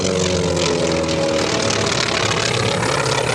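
T-34C turboprop trainer aircraft with a Pratt & Whitney Canada PT-6 engine at an airshow parade, a loud, steady close engine roar with a whining propeller tone throughout.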